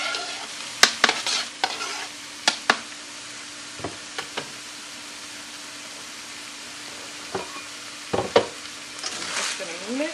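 Stuffed pepper filling mixed with spaghetti sauce and cheese being stirred in a hot pan with the heat turned off, faint residual sizzle under irregular scraping and clacking spoon strokes against the pan.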